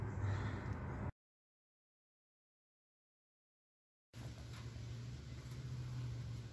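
A car exhaust without a resonator runs after a JB Weld exhaust leak repair, giving a steady low idle drone broken by a silent gap of about three seconds.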